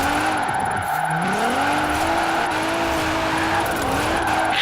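A car drifting in Forza Horizon 4 keeps its engine droning loudly as the tires squeal continuously, the pitch rising and falling with throttle and e-brake.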